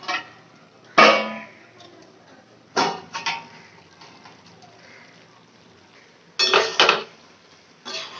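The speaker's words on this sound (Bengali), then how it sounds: "এবার আমি লো ফ্লেম করে একটু ঢাকা দিয়ে দেবো যাতে মাল মশলাগুলো ভেতরে ঢোকে।" A lid clanks onto a cooking pot on a low flame in a home kitchen, with a few separate metallic knocks and clinks near the mic and quiet stretches between them.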